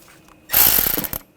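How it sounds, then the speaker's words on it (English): Ratchet wrench tightening a nut onto a level sensor stud on a 2007-2013 BMW X5 during front upper control arm replacement, a brief close burst of rapid clicking lasting under a second. "Take the level sensor, get the stud lined up in the hole, put the nut on."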